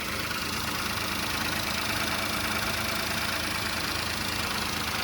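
A 2024 Toyota Wigo with a 1.0-liter three-cylinder engine idles after a cold start, a steady, even engine drone with a faint knocking texture holding constant throughout, with no talking.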